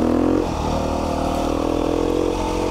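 Beta 390RR Race Edition four-stroke dirt bike ridden at night, engine droning loud and close with a steady harmonic hum, a brief throttle change near the start, then even running throughout.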